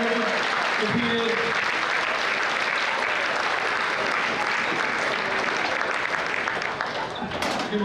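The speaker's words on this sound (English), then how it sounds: "Give a round of applause for all of our comedians that performed and competed." A large audience at a live comedy competition event claps steadily and loudly, a continuous wash of applause with no gaps.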